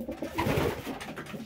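A racing pigeon gives a short, close, throaty coo in a loft after a marathon race, with a little soft background noise and no talking.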